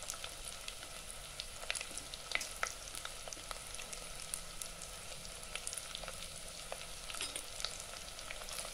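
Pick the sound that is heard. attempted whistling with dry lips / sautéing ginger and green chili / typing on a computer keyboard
sautéing ginger and green chili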